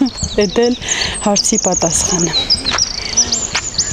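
Small birds chirp and tweet in a village in the Shamshadin area, with rapid high-pitched calls scattered through the whole clip while someone talks close by over them.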